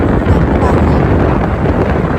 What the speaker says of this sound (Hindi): रात में ठंडी हवा चल रही है